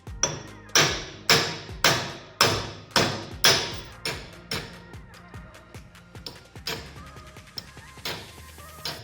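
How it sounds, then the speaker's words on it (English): A hammer strikes a steel punch driving out a worn wheel stud on a Toyota N60 Hilux, loud ringing blows at a steady rhythm that become lighter and quicker taps toward the end, close up. "I'm going to use a punch and a hammer to get this last one out"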